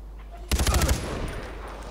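A rapid burst of about five close, loud gunshots in Far Cry 4 fires in quick rhythm after a brief quiet start, then trails off into a low ringing ambience.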